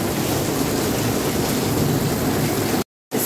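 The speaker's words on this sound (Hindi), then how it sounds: "बड़े ज़ोरों के साथ बारिश है।" Heavy rain pouring nonstop, a loud dense roaring hiss that fills the scene evenly before cutting off briefly near the end and resuming.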